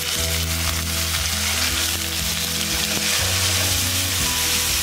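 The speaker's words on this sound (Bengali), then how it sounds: "রসুনটা ভাজা হয়ে গেছে, এবারে পেঁয়াজ পিসটা দিয়ে দিলাম" Onion pieces frying in hot oil after garlic for a Bengali fish head curry, a steady loud sizzle running unbroken throughout with a faint tonal hum beneath and no voices.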